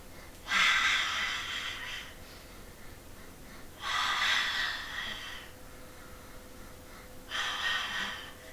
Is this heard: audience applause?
no